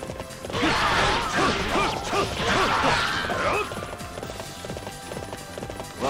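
Horse hooves gallop in the video game Warriors Orochi 3, a fast, loud, rhythmic clopping mixed with clashing battle noises that thins out toward the end.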